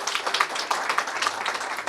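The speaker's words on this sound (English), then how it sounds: "Give him a big round of applause" Applause from a community audience at a Mississauga office opening, a steady patter of many hands clapping close by with uneven bursts, no voices over it.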